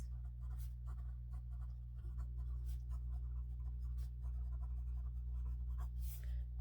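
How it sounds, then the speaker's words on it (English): Writing notes by hand, with steady scratching pen or pencil strokes on paper over a loud, constant low hum, close up and continuous, with no talking. "I'll write this stuff down."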